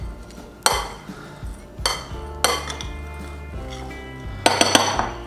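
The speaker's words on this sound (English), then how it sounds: "I'm just gonna stir this until it's all just nice and combined." A utensil stirs parmesan topping for mac and cheese in a bowl, giving several sharp clinks and scrapes against the dish at irregular intervals, close and clear with no talk.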